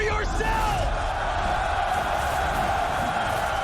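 A packed esports arena crowd at a CS:GO Major grand final roars continuously, with loud sustained cheering, yelling and chanting filling the whole stretch.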